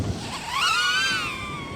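Small electric motors of a DJI Neo drone spin up with a rising, whining tone that climbs and then holds steady as a high-pitched buzz.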